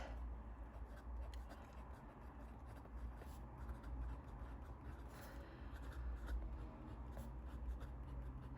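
Fountain pen with a medium nib and Robert Oster ink scratching steadily across paper, a close, continuous soft scraping with short strokes and pauses over low background rumble.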